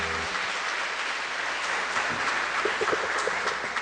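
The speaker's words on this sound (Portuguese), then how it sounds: "dê uma forte salva de palmas para o Senhor Jesus" A church congregation applauds for Jesus during a family gathering service, a dense, steady wash of many hands clapping that fills the whole stretch at an even, fairly loud level.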